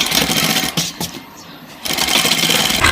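A sewing machine stitches a kurta seam in loud, close, rapid bursts, pausing briefly in the middle before running again.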